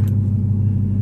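A 2008 Dodge Charger with the 5.7L engine idles while warming up, giving a loud, close, steady low rumble.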